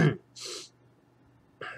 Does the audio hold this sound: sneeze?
yes